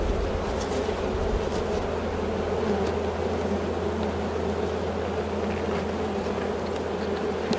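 Honeybees buzz steadily from an open hive during an inspection, making a dense, continuous drone close by with no talking.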